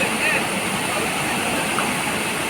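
Sprite Falls, a waterfall with clear, cold water, gives a constant broadband rush of falling water that fills the air evenly with no breaks.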